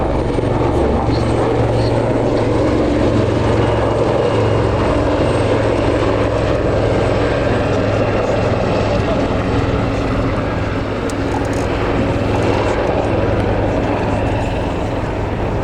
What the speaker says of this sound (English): the Wildcat very much the shipborne helicopter of today